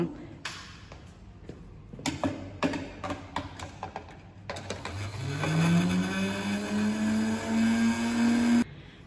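An electric mixer churns a soil sample with water in a mixing cup, starting after a few clicks and handling noises, then spinning up to a steady, loud whirring drone that holds for several seconds before cutting off.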